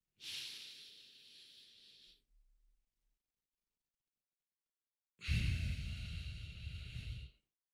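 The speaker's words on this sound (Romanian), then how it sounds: "3 secunde am inspirat, 3 secunde țin în mine, 3 secunde expir" Slow, controlled human breathing in a quiet room during a sleep-focused breathing exercise: a soft, airy inhale of about two seconds, a silent hold, then a louder, fuller exhale lasting about two seconds, heard close and alone.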